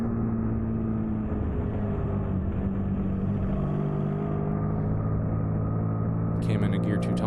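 Suzuki SV650 superstock racing motorcycle held at full throttle on track at Road Atlanta, a loud, steady droning engine note with dense harmonics, close and continuous, a brief high-pitched burst near the end.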